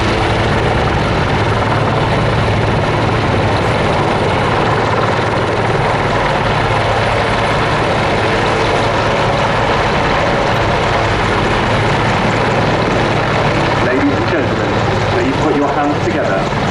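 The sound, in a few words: Army Air Corps Apache gunship helicopter flying at air show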